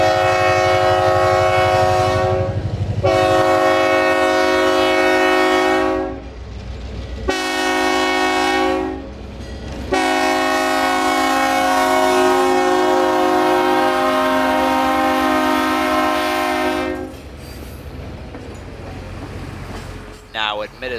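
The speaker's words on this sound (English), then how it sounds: "This horn will blow your ears out." Locomotive 1835 at the Florida Railroad Museum blasting an UP-tuned K3HL multi-chime train horn: several loud, close, sustained blasts separated by brief gaps, ending in one long blast before the horn cuts off and engine rumble remains.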